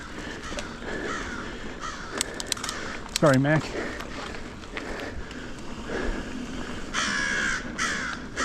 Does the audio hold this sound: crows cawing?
yes